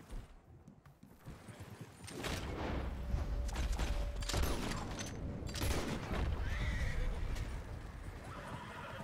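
A horse whinnies and neighs repeatedly in Red Dead Redemption 2, with hooves clopping and bursts of distant gunfire in a busy, loud game scene.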